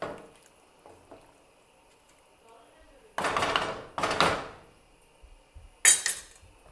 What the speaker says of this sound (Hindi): अब इसमें और पानी जाएगा।